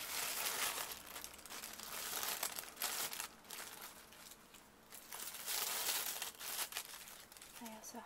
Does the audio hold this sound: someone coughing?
no